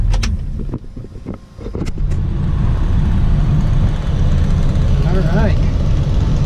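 A 1966 Chevy II Nova engine cranks briefly, then catches and settles into a loud, steady, rumbling idle close by, with a short spoken word near the start.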